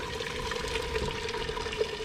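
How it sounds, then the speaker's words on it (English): Hot water from a pot of boiled potatoes poured off into a kitchen sink, a steady splashing, rushing stream close by that runs without a break for the whole two seconds. "So I'm going to drain the water out."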